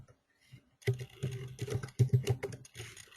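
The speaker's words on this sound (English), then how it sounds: "Sorry, I am typing this time." Typing on a computer keyboard during an online webinar, a quiet pause followed by about two seconds of dense, irregular clicking keystrokes, close and fairly soft, with no talk.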